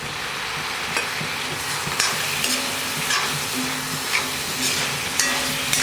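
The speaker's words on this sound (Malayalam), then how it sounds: "തക്കാളി നന്നായിട്ട് വെന്ത് ഉടയണവരെ ഇളക്കുക." Tomatoes stirred and sautéed with browned onions in hot oil for kootu curry: a steady close sizzle with intermittent scraping stir strokes, no talking.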